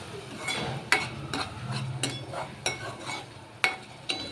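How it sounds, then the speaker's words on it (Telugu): Onion and tomato frying in oil in a pan for a korameenu fish curry, a steady low sizzle broken by repeated sharp clinks and scrapes of a spoon stirring against the metal pan. "3-4 నిమిషాలు ఇట్లా వేగనిద్దామండి టమాటా కూడా."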